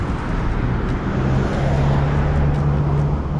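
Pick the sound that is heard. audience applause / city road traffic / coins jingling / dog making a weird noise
city road traffic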